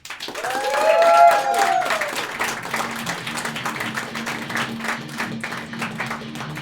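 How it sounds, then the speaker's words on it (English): Comedy club audience at The Junk Bar clapping and cheering for the final act, whoops rising early over steady applause that carries on close and full for several seconds. "can we please put a really big loud cheer for our producer and our final act, Liam Daly"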